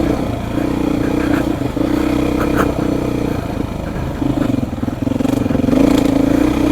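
A Beta motorcycle engine drones steadily while riding, its tone holding and shifting slightly as throttle changes, with some clatter and rattle over the top and a rising rev near the end; no clear talk.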